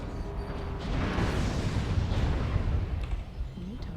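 Missile volleys launching in MechWarrior Online fill the clip with a sustained, dense roar of rumbling blasts and mechanical whooshes, loud and continuous, with a few sharper transient hits toward the end.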